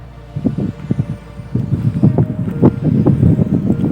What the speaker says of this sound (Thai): ลมพัดครับ